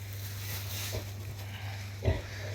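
Young sows on a small piglet farm give a few soft grunts over a constant low electrical hum, quiet and intermittent, with one louder snort near the end.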